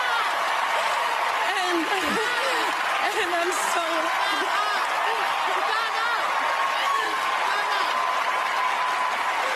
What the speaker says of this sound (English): They're smiling and cheering and clapping, right?